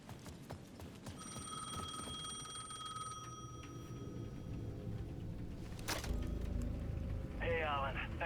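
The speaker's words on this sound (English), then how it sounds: "The payphone at the edge of the plaza was ringing again." A payphone rings in the video game Alan Wake 2, a steady electronic trill lasting a couple of seconds, heard faintly under ambient game sound and talk, followed later by other rising tones.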